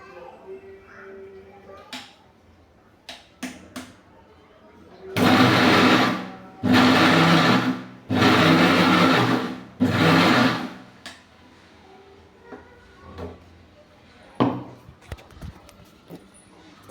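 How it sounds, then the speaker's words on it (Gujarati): A kitchen blender crushes peas, onions and tomatoes in four loud bursts of a few seconds each, separated by short pauses, with quieter household noises before and after. "તો જો આપણે મટર, ડુંગળી ને ટામેટાં ક્રશ કરી લઈએ."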